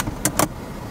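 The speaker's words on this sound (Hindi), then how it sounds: "और ये सनरूफ क्लोज, और यहाँ से ये बंद हो जाएंगी।" Sunroof of a 2021 Hyundai Venue SX compact SUV closing, two short close whirring bursts in quick succession inside the cabin, otherwise quiet.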